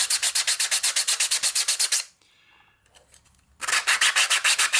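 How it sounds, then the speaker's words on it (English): A 3D-printed part is sanded with a flat sanding stick in fast, even back-and-forth rasping strokes, loud and close, broken by a short quiet pause before the rhythmic scratching resumes. "when I'm sanding, it's going to sand it evenly"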